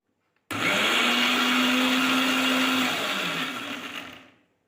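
A blender grinds taro, lemon and spices into a chutney paste, switching on abruptly with a loud, steady whirring roar for about three and a half seconds before winding down and stopping.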